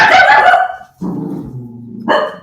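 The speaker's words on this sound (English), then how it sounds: "I've got a bloody dog who's now barking because somebody's knocking the door" A pet dog barking indoors as someone knocks at the door, a loud close bark followed by a lower drawn-out growl and another sharp bark, with no talk over it.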